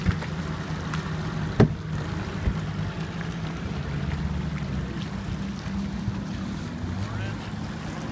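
Outboard boat motors drone steadily over open water, with wind buffeting the microphone and a single sharp knock partway through.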